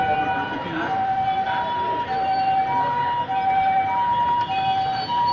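A fire engine siren wails during a fire in Cotonou, a loud alternating two-tone siren cycling steadily over street noise and crowd voices, with people talking nearby.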